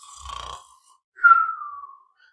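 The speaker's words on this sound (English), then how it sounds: "Yawn." A human yawn, a short breathy intake followed by a drawn-out, falling, voiced exhale, close and alone in an otherwise quiet moment.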